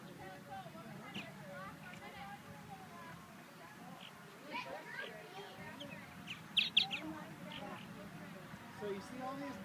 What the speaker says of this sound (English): they are called purple martins